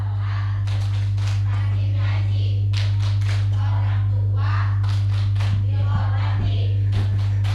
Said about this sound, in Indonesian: Bu, bisa tepuk tangan ya, menggantiin anak-anak ya.